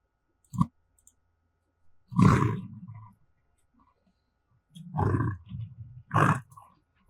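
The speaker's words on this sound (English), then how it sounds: "So that's a lion roar." Library lion roar sound effect: a short click, then separate deep, rasping roar bursts with silent gaps between them, close and loud.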